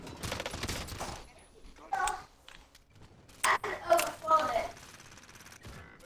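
Video game gunfire, a Diamati rifle among other weapons, in a few rapid close bursts and single shots mixed with game noise, while people talk over it.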